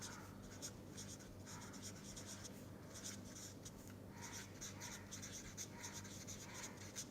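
Pen or chalk writing out eigenvalues by hand, a continuous close scratching of strokes with short pauses between them, heard alone against a steady background hum.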